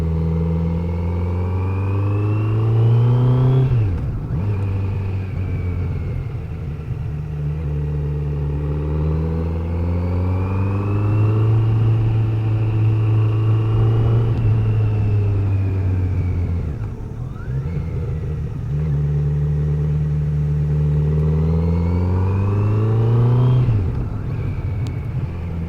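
A Kawasaki Z900 motorcycle engine drones steadily during a break-in ride, its pitch rising through the gears in smooth sweeps, dropping at shifts, then climbing again, loud and close throughout with wind noise beneath.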